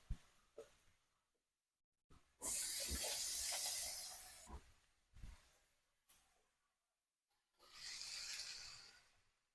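Sizzling from a hot pan while smothered potatoes cook, heard as a loud, bright hissing burst lasting about two seconds, then short sputters, and a second hiss surge near the end, with no talking.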